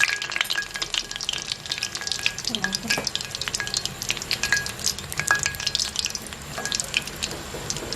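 Food crackles and sizzles steadily in hot oil as it crisps, with occasional stirring scrapes and light spatter throughout.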